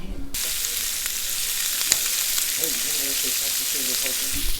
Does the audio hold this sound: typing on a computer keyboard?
no